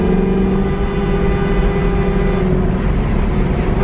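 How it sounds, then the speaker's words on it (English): Car engine on the mountain roads of the Tail of the Dragon and the Smoky Mountains, a loud, steady, close drone with a low rumble, holding level for a few seconds. "Although Chris's car does sound good, you do have to hear me yapping over here."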